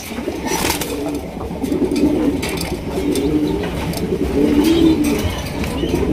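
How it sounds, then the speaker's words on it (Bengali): A pair of large jet-black Lahori pigeons coo softly at a pigeon farm, with low repeated rolling calls in steady bursts over a continuous background hiss. "চমৎকার একজোড়া লাহোরি কবুতর আপনারা দেখতেই পাচ্ছেন"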